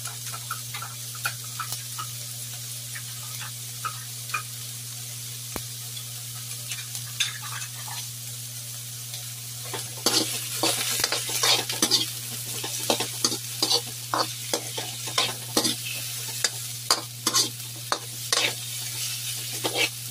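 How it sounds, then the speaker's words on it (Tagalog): Sweet and sour tilapia ingredients sautéing in a pan, a soft sizzle with intermittent spatula scrapes and taps at first, turning into a louder, busier sizzle with frequent stirring clicks partway through, close and without talk. "So, igisa lang natin saglit muna,"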